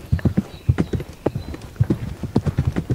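Horse hooves clip-clop in an indoor riding arena, a brisk irregular run of close, loud thuds on the footing with no voices.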